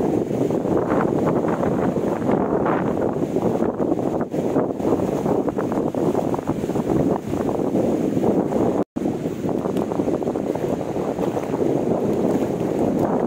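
Strong, continuous wind at the seashore buffets the microphone with a dense roar, likely mixed with surf, and no voices.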